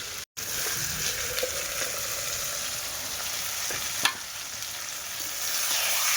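Goat meat browning with spices in a pan, a steady close sizzle and crackle of frying kosha that runs throughout, with a brief dropout near the start and a small clatter around four seconds.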